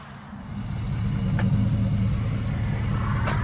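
A car engine fitted with an X-pipe exhaust idles at close range. The low rumble is steady and swells slightly at first, then settles into an even burble with no voices.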